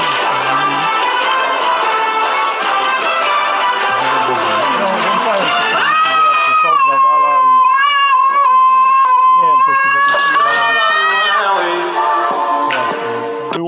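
A cat meows and squeals in a long, loud, wavering cry that rises and falls in pitch and holds almost without pause for over ten seconds.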